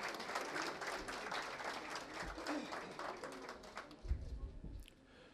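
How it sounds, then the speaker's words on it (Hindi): An audience at a health campaign launch applauds to welcome Maharashtra Chief Minister Devendra Fadnavis, a faint, steady wash of clapping from a crowd that fades near the end. "मैं चाहता हूं एक बार जोरदार तालियों से इनका स्वागत करें।"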